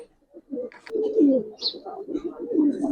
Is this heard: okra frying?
no